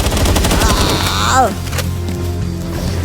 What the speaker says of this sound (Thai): ไอ้ปืนนี้ยิงไปก่อน